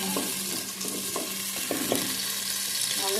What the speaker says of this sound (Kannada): ಎಣ್ಣೆ ಹಾಕಿ ಫ್ರೈ ಮಾಡ್ತೀನಿ ಮೀನಿಗೆ